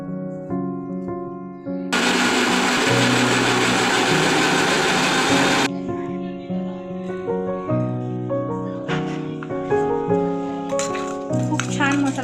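An electric mixer grinder whirs loudly for about four seconds as it grinds black peppercorns and spices into a dark masala, starting and stopping abruptly, set within a stretch of background music with a few clatters.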